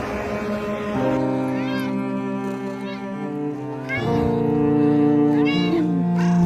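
A stranded baby kitten on a highway gives several plaintive, rising meows, loud and close, between stretches of droning traffic noise, with voices heard nearby.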